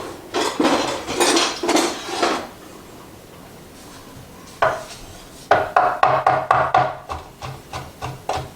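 Kitchen knife set down at a table while preparing a Baharat-spiced couscous salad: an opening series of clattering knocks, a quiet stretch, one sharp clack, then a quick run of close metallic taps.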